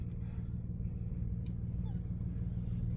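A 2001 Nissan Pathfinder R50 4x4 with a five-speed manual pulls away slowly in first gear, a low, steady engine rumble close by with no clear revving.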